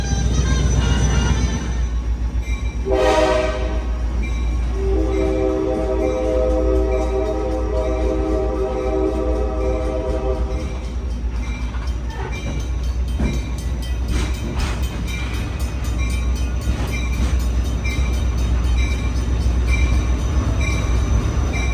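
A train riding on rails gives a steady, loud rumble throughout, with a squealing tonal whine rising partway through and lingering for several seconds before fading back into the continuous rolling noise.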